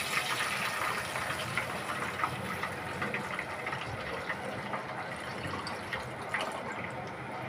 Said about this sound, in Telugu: నీళ్ళు అనేది పోసుకున్నాం